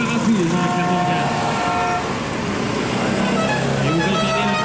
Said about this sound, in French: Et vous entendez le klaxon typique, cette petite clochette